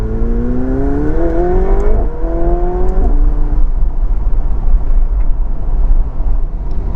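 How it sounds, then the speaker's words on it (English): A McLaren 720S Spider revs hard as it drops through gears with the roof open, the pitch sweeping up and down in bursts, with a steady roar of road and exhaust noise. "just drop a couple of gears and listen to this."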